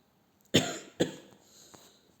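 Two sharp coughs close to the microphone, about half a second apart, followed by a faint breath, with no talking.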